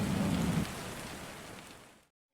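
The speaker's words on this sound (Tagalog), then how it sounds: "ito ay maaaring dahil sa matindi at mahabang pag-ulan" Heavy, steady rain pours down as a broad, dense hiss that stays loud and even for about two seconds, then cuts off abruptly into silence.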